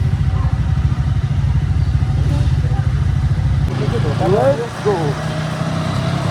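A motorcycle engine runs loud and close on a trip in Panchthar, Nepal, a steady throbbing drone throughout, with people talking and calling out over it.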